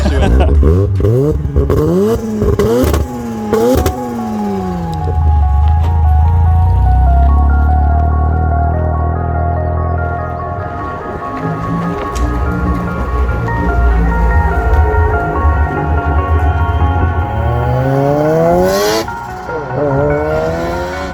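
A Mazda FD RX7 rotary engine rips through repeated sharp revs and rising gear pulls, loud and close, with choppy brap bursts on and off throttle and a few calmer cruising stretches, while people talk over it.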